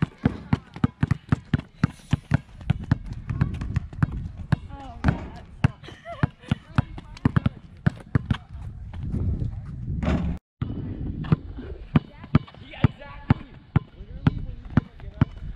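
A basketball is pounded rapidly on a court during quick-feet agility drills, giving a dense run of sharp, close bounces with a brief break near the end. A coach's voice talks over the dribbling.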